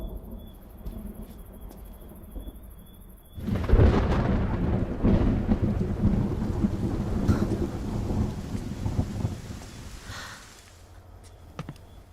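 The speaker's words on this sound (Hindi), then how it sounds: "बारिश भी तुम्हारी तरह है, एकदम से नहीं बरसती, गरज कर बरसती है।" A thunderstorm with rain, with a faint chirp of crickets at first, then a loud rumbling crack of thunder that rolls on over steady rainfall for several seconds before fading back to rain and insect sounds.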